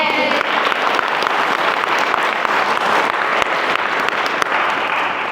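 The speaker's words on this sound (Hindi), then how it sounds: "ताली बजा के देंगे कि नहीं?" A church congregation at a Mission Ranchi gathering claps together in thanks to Jesus, a dense, steady burst of applause filling the room for about five seconds with no break.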